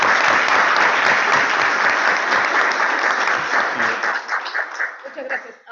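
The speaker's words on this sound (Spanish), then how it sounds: "Aplaudamos a Nadia." An audience at a presentation on a biodiversity corridor breaks into loud, dense applause. The clapping starts strong, thins into scattered claps and fades out.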